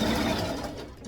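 A sewing machine runs steadily, stitching glittery fabric for a Barbie doll tutu, with a continuous close mechanical whir that holds even throughout without pauses or voices.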